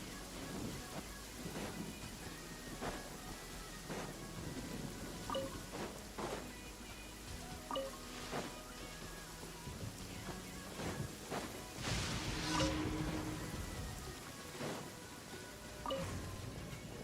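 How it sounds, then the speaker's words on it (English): Steady rain pours in the Genshin Impact game world, a dense hiss of rainfall with scattered drip and impact sounds and a louder surge of rain and thunder rumble partway through, continuous and enveloping. "It's raining again."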